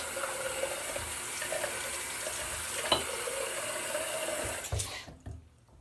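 During a shave, a razor is rinsed under a running faucet, giving a steady, close splash of water into a sink with a few small knocks, before the flow is shut off near the end.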